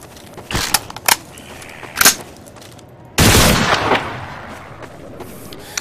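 Guns fire in Garry's Mod zombie survival play: a few sharp separate shots ring out, then a louder, longer burst of rapid gunfire follows with echoing tails.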